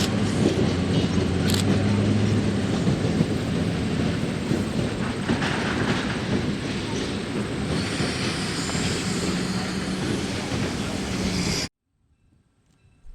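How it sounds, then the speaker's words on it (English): Chicago and North Western EMD diesel locomotive 1518 pulling the Zephyr train approaches at a railway museum's Diesel Days event, a steady loud rumble of engine and rolling wheels that holds for about eleven seconds before cutting to silence. "Approaching now is the Zephyr train with CNW 1518"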